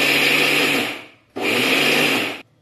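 A kitchen mixer grinder crushes mature coconut for a Kerala-style varutharacha chicken curry in two loud, close bursts of whirring, separated by a brief pause.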